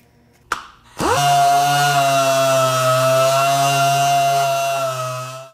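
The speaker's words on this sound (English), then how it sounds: "the final step with your DA sander is going to be your 320 dry" A dual-action sander spins up with a brief click and then runs at a steady, loud, high whine, dry-sanding aluminum with 320 grit close by, with no talking.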